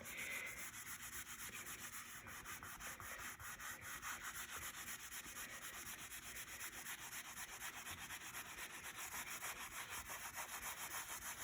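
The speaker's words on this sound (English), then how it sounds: "now we'll start scrubbing and see how it goes" Rhythmic back-and-forth scrubbing to lift permanent marker off vinyl plank flooring, quiet rapid repeated rubbing strokes, close and steady throughout, no talking.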